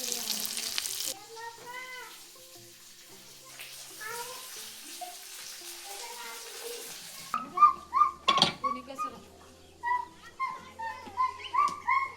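Boneless pieces of freshly caught tilapia fry in hot oil with a soft, steady sizzle, joined later by louder bursts of crackling and pan clatter in quick, irregular pulses.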